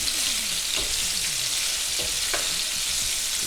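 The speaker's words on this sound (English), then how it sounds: "So I'm just gonna keep giving that a stir." Cherry tomatoes frying in a pan, a dense continuous sizzle with several soft stirring scrapes and knocks, close up and without any talk.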